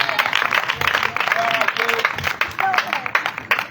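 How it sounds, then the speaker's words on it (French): A church congregation applauds and cheers for Jesus, a steady, dense wash of clapping and crowd noise that runs the whole time, with voices calling out over it. "Acclame bien le roi de gloire,"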